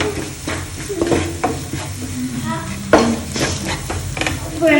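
Coriander powder and garam masala roast in a pan with a soft, continuous sizzle, while a spoon scrapes and stirs in irregular strokes, with a few sharper clinks against the metal.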